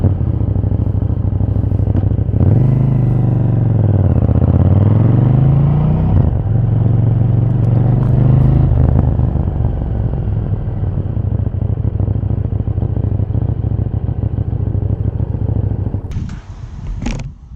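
A motorcycle fitted with a tracker rides off, its engine rumbling loud and close with rising and falling revs and a steady drone before fading near the end.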